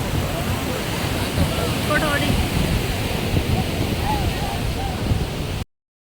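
Sea waves washing onto a beach in Thiruvananthapuram, Kerala, a steady broadband surf wash with wind across the microphone, lasting about five and a half seconds before cutting out.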